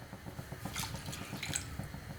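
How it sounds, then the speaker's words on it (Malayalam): Hot water poured into a clay pot for a coconut-free fish curry, a steady splashing trickle with faint dripping, close and moderately quiet, no talking. "ഞാനിവിടെ ചൂടുവെള്ളമാണ് ഒഴിച്ചു കൊടുക്കണത്."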